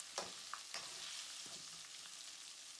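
Food frying steadily in a pan, a quiet continuous sizzle with a few faint pops and taps throughout, no voices.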